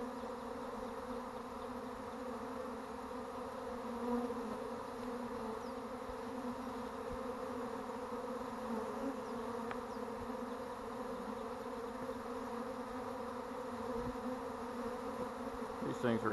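A swarm of honey bees buzzes continuously and steadily at close range during an outdoor swarm capture, a dense droning hum that holds for the whole stretch with a few louder passes near the listener.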